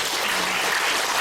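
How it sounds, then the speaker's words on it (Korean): Audience applause at a Korean community gathering honoring a mentor professor, a brief dense wash of clapping heard alone, fairly loud and steady. "감사의 박수 부탁드립니다"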